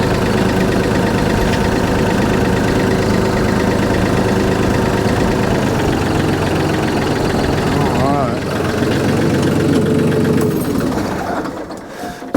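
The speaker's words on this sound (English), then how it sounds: "let's jump on that backhoe. Let's see if we can get a hole dug here." A backhoe engine runs steadily at a loud idle nearby, a constant rumbling drone with a rhythmic mechanical chatter, while someone talks over it; the engine noise drops away near the end.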